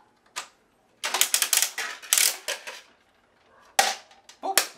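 Vendstar 3000 triple-head vending machine dispensing a gumball, clustered sharp mechanical clicks and clacks in irregular bursts, close and fairly quiet, with short gaps between rattling turns.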